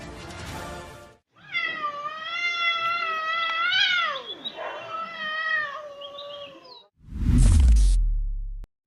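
Outdoors at night, a cat lets out one long, drawn-out wavering meow that rises and bends in pitch. It is close and loud, and rustling and a heavy thump come before and after it.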